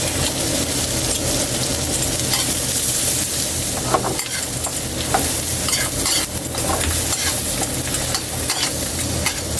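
Garlic frying in butter for chicken wings, a loud continuous sizzle with spoon stirring and scraping in the pan throughout, close up and alone.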